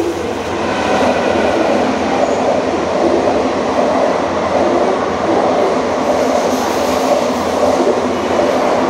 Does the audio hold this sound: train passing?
yes